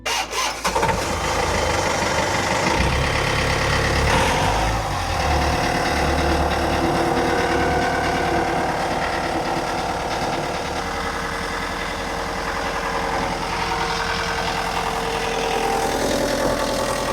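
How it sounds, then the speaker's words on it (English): An Amel Super Maramu sailboat's diesel engine cranks and catches, then settles into a steady, loud idle with a continuous low rumble and no voices. "So let's get the engine started."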